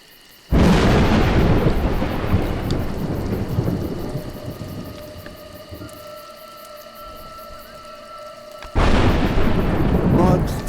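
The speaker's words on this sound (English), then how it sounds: "Mud, thunder and lightning are terrible opponents." A thunderstorm with rain in the video game A Juggler's Tale: a loud thunder crash rumbles and slowly fades over steady rainfall, then a second loud thunderclap strikes near the end.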